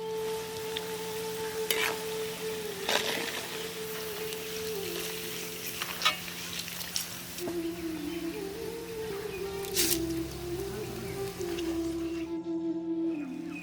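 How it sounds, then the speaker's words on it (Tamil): Soft, continuous sizzling of flattened rice frying in oil, with occasional clinks and stirring sounds and a faint tonal hum in the background. "இப்ப அவளையும் எண்ணெயில போட்டு பொரிக்க ஆரம்பிச்சிடலாம்."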